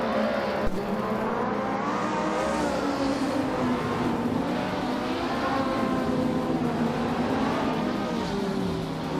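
A Lamborghini Sesto Elemento and a Ferrari 458 Italia race in a video game, their engines droning and whining loudly and steadily with shifting revs as the cars run close together.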